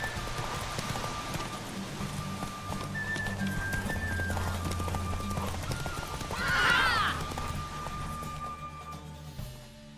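A horse whinnies loudly midway through, amid steady clip-clopping hooves and a background hum, in the video game The Witcher 3: Wild Hunt.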